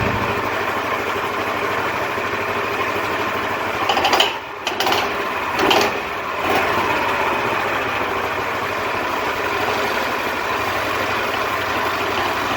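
A 1940s Lincoln garden tractor engine runs steadily with a faulty clutch, giving a constant close mechanical drone with a brief rattling disturbance partway through, and no talk.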